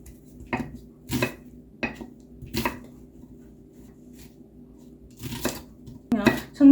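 Onions being prepared in a home kitchen for tuna kimchi stew, with a series of separate knife knocks and clatters of utensils on a board and dishes, set apart by short pauses under a low background hum.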